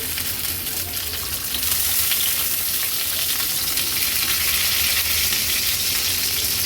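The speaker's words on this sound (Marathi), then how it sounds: "टोमॅटो फ्राय करण्यासाठी गॅसवर आपण हा पॅन ठेवला आहे।" Whole tomatoes fry in a thin layer of oil in a pan on a gas stove, giving a loud, continuous crackling sizzle that swells slightly after the first seconds, heard alone without talk.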